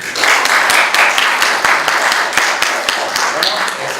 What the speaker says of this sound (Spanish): un aplauso para la profesora.